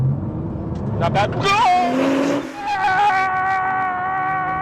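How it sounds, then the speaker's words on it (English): Nissan GT-R R35 accelerating hard in 6th gear from about 55 mph, with a loud engine and road roar inside the car and a rising whine, while someone talks briefly over it. "We're doing 55, 6th gear, punch it."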